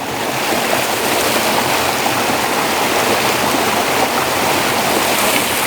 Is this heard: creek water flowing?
yes